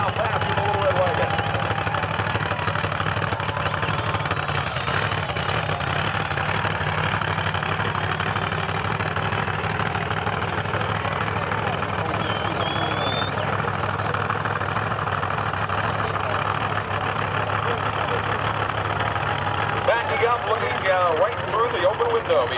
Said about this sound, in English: Spins the tires, trying to get a little traction down to prepare for a full quarter-mile pass with the Little Red Wagon.